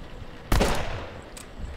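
A gun fires in the Siren Head horror video game, one sharp loud blast ringing into a short decaying tail, followed by a fainter click about a second later.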